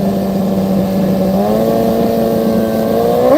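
A race motorcycle accelerates hard at Seattle International Raceway, its engine note rising steadily in pitch as it pulls through the gears. The roar is loud, close and continuous, with no talk over it.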